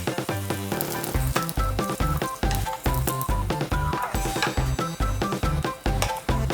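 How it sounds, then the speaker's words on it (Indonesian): Lempeng flatbread frying in a pan over low heat gives off a steady, close sizzle with repeated crackling pops. It continues throughout without any voices. "Dengan tetap menggunakan api kecil, pastikan lempeng yang telah dilipat dibalik agar lempeng masak dengan merata."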